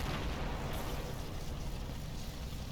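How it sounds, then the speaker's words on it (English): Artillery shells rain down in a Combat Mission World War II battle during Operation Epsom, a continuous dense rumble of distant explosions blending into a steady roar with no distinct single blasts. "My arty starts to fall on Wurst and Spargel"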